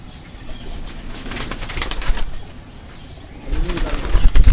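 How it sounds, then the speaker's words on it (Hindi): Pigeons on a rooftop loft in the Korangi area, with soft cooing and a flurry of wing flaps close by, then louder rustling toward the end; no speech. "ये इंशाल्लाह हम नीचे बैठ के आपको खालिद भाई के जो कबूतर हैं नीचे बैठ के हम आपको उनकी जानकारी देंगे"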